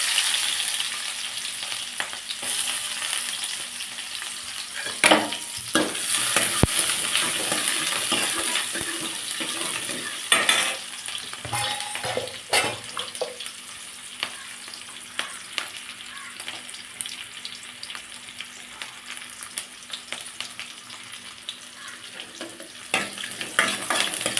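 Steady sizzling of onions frying in a pan, with occasional scrapes and clinks of stirring throughout.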